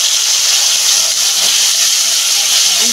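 Ginger garlic paste hits fried onions in a hot pan for a fish curry, a loud, steady, close sizzling hiss that runs without a break.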